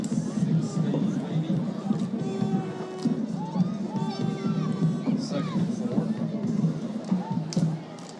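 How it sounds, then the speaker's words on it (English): Full home and away stands at a high school football homecoming game at night, a steady crowd hubbub with scattered shouts and whistles beneath a close announcer's talk throughout. "Great crowd tonight. Both stands are full, home and away"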